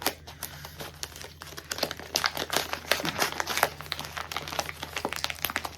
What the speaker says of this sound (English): Ooh, tape noise as well.